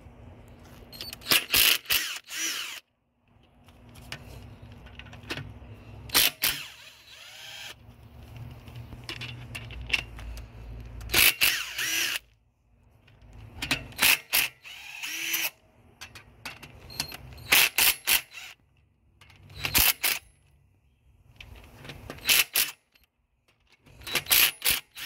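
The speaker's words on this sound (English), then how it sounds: "go ahead and loosen all these bolts that hold the rail in place" Fuel rail bolts are loosened on a 2018+ Mustang GT direct-injection engine, heard as bursts of ratchet clicking and metallic tool clatter separated by short quiet gaps, up close.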